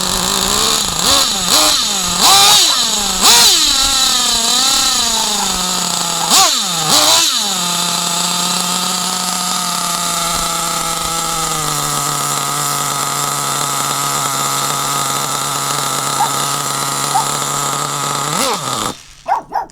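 A small high-pitched two-stroke nitro engine in a Hobao ST RC car revs sharply several times, then settles into a loud steady buzzing idle before cutting out.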